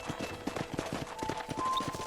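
Horse hooves clip-clop on the ground at a ranch corral in the video game Red Dead Redemption. The hoofbeats are steady and close, with faint tonal ambience behind them.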